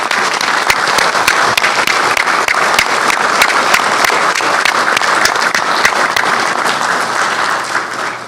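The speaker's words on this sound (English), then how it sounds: "another big round of applause" Sustained applause fills a township council meeting, many hands clapping steadily and loudly from a crowd for several seconds without a break.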